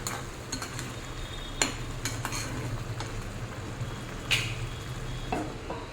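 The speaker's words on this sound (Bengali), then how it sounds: "ভালো করে নেড়ে নেব।" Gentle stirring in a pan of simmering prawn curry with coconut milk and cardamom, a soft steady sizzle and bubbling underneath, with a few light scrapes and clinks of the spoon against the pan.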